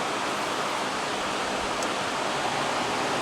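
Fluids from a 2000hp Corvette Z06 drain through pick-punched holes in an aluminum can, making a steady, loud, continuous rushing hiss like running water, unbroken for the whole stretch with no talking.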